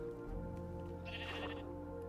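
A single sheep in the Island Survival video game gives a clear, close bleat with a wavering tone over a steady humming background, no speech.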